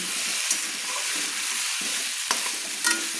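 Small new potatoes are sautéed with spices in a pan, a close, steady sizzle with occasional soft stirring scrapes and clicks.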